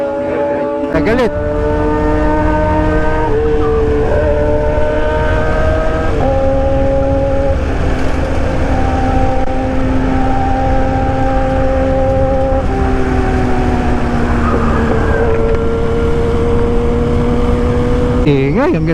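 Loud big-bike motorcycle engine revving and shifting through gears close behind, pitch rising and dropping repeatedly amid continuous traffic noise.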